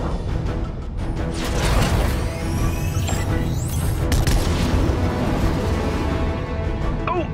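Rapid bursts of sci-fi laser cannon blasts and booming explosions in a Fortnite battle pile up over a dense, chaotic din, with zipping sweeps cutting through.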